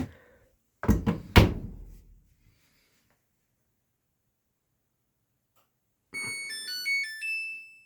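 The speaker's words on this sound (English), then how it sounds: "Now I've closed the door and start a load." A Samsung gas dryer door shuts with two firm thunks, then after a few seconds of silence the machine plays a bright multi-note start melody, close and clear with no talking.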